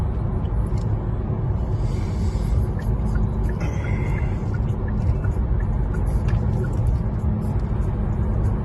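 Steady road and tire rumble inside a Kia Niro EV cruising on a highway at about 102 km/h in eco mode, a continuous loud drone with faint repeated soft ticks and no voices.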